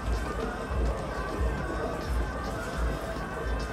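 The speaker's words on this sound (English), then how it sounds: "Need to get through this crowd of people." Murmuring crowd of people in a Hitman level, a dense steady wash of chatter and shuffling with low rumbles pulsing underneath, continuous and fairly close throughout.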